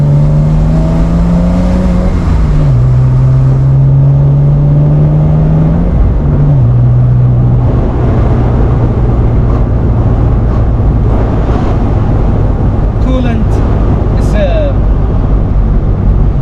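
A Porsche Boxster 986 engine pulls and revs hard under load, a loud steady drone with pitch rising and dropping through the gears, someone talking over it at times.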